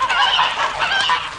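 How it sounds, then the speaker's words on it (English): Domestic geese honking in a yard, a dense, continuous overlapping chorus of nasal calls from several birds, loud and close with no pauses. "I looked at the geese, which was hissing and huddling in the corner of the yard."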